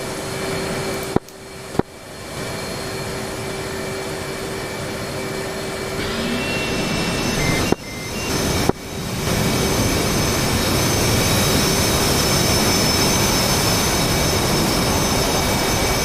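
F/A-18 Hornet jet engine in DCS World, a loud continuous roar that builds and steadies, broken by a few brief dropouts and clicks early on, with no talking.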